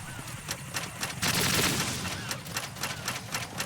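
AK rifle fire in Metal Gear Solid 2 comes as rapid automatic bursts of sharp, loud shots, with one dense volley in the middle followed by quicker, evenly spaced shots.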